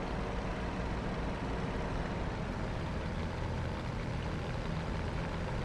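A Bf109 fighter's piston engine in a DCS flight sim eases off the throttle, giving a steady, dense, loud drone with a low rumble that holds unbroken and alone throughout.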